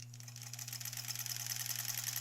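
A sewing machine stitches quilt blocks for a Splendid Sampler 2 project, its needle ticking in a quick, even rhythm. The sound is faint and close, with no talking.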